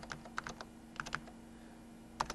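Keys clicking on a computer keyboard in short irregular bursts of taps with pauses between, close and fairly quiet, over a low steady hum.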